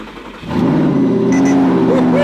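A manual Audi R8 with a dry-sump V8 starts from a low rumble and quickly swells into a loud, close acceleration roar. The engine note climbs steadily in pitch and holds strong to the end.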